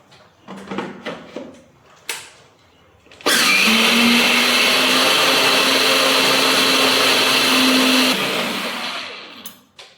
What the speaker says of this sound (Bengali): দেখি ডালটারে ধুয়ে মিক্সিতে দিয়ে রেডি করে রাখি। এই তো, হ্যাঁ, এক্ষুনি পেস্টটা করে নি